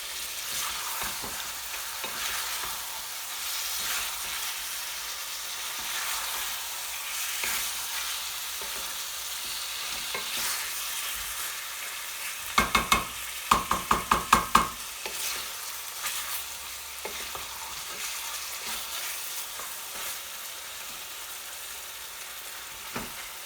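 Beef with one chopped tomato sizzles steadily in a hot pan for a home-style hot beef naga curry, a constant frying hiss with a short burst of clattering stirs midway.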